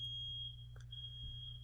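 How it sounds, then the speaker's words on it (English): A smoke alarm sounds indoors with a steady high-pitched electronic tone, faint and continuous over a low background hum. "smoke alarm"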